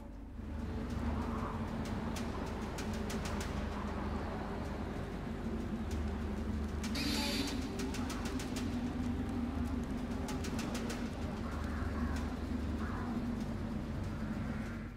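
An owl companion calls in Far Cry Primal, soft cooing hoots repeating over a steady game ambience of birdsong and low background rumble, no talking.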